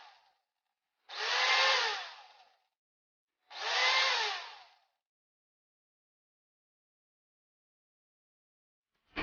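A mixer grinder blending egg and refined oil into mayonnaise whirs loudly in two separate bursts of a second or so each, with silence between, and a third run just starting at the very end.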